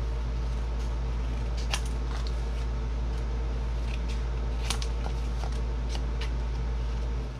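Scissors make a series of brief, crisp snips while mitering the corners of folded paper for a small notepad holder. The cuts sit over a steady low hum, with no talking.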